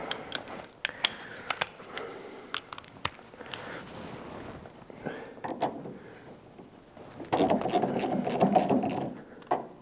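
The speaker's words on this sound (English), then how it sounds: "So let's get this top 3 bolts undone now" A wrench turns 9/16 bolts on an Armstrong lever arm shock absorber of a classic car, giving sharp metallic clicks and ratcheting scrapes in irregular bursts, close up, with a denser rattling spell near the end.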